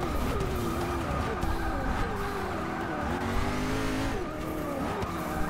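A Koenigsegg Agera braking hard on a race track, its engine note rising and falling in loud, close interior sweeps with tires squealing and skidding through the corner, continuous for several seconds.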